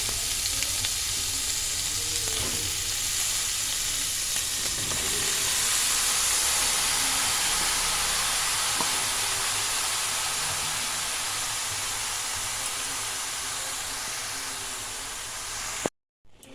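Sliced ridge gourd sizzles in hot oil in a pan that already held fried shrimp, giving a steady crackling hiss with occasional bubbling pops that fades slightly toward the end before cutting off abruptly.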